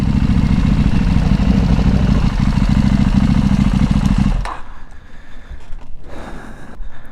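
A KTM Duke 890 with a Dominator aftermarket exhaust runs loud and close with a deep, rumbling idle, then cuts off, leaving quieter ambient noise with faint clatter.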